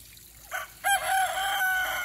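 A farmyard rooster lets out a loud, close crow with a short lead-in note followed by a long drawn-out call, standing alone against quiet surroundings.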